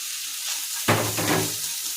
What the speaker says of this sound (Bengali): এখন আমি ডিমটা দিয়ে দেবো।